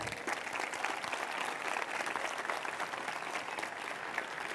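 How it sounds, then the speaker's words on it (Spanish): Applause from an audience after a talk at a Campus Party tech event, a continuous wash of many hands clapping at an even level, moderately distant and unbroken by speech. "Un aplauso para Eduardo, por favor"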